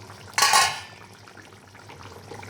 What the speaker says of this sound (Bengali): এবার আমি ঢাকনাটা উঠিয়ে দেখে নিই